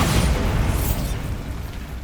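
Bombarda spell blast in the video game Hogwarts Legacy on PS5, a loud booming explosion with a rumbling tail that fades over about two seconds, no voices.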